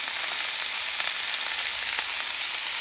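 Sea bass sears on a plancha grill, giving a steady, close, dense sizzle with light crackles and spits throughout, and no talking.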